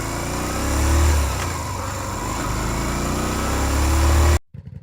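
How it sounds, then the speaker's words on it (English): Yamaha Virago XV 125 cruiser motorcycle idling and revving through its exhaust, a loud, steady engine drone that swells briefly before cutting off abruptly near the end. "Cruiser motorcycle, Virago XP 125"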